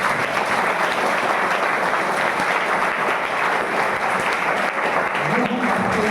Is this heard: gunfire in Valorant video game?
no